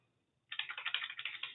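Close, quiet keystrokes on an HP 1000 computer terminal keyboard start after a brief silence and continue as a quick, even run of clicks.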